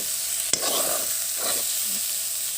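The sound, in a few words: frying food with green chillies in a pan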